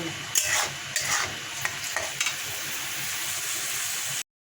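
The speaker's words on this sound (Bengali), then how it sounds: "কড়াতে তেলের মধ্যে পেঁয়াজ রসুন ভাজাই হয়ে গেছে এইবার ক্যাপসিকামটা দিয়ে দেবো" Capsicum stir-frying in oil with onion and garlic in a kadai, a close, steady sizzle broken by several scraping stirs of a spatula, then cutting off abruptly into silence near the end.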